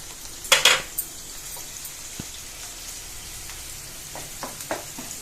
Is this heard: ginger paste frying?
yes